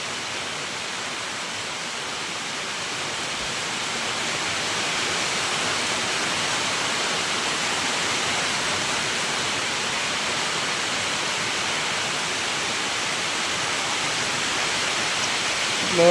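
Heavy rain pours down outdoors in a dense, unbroken hiss, growing slightly louder after the first few seconds and holding steady to the end.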